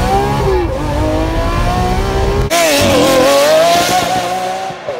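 A high-revving Lamborghini SV V8 supercar engine roars loudly and continuously, its pitch sweeping up and down with a sharp throttle blip midway.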